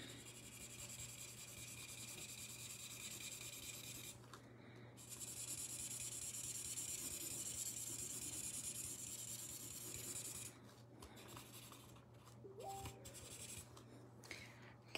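Marker coloring strokes on a paper desk mat, a steady faint scratchy rubbing that runs continuously with brief pauses, close and quiet with no talking.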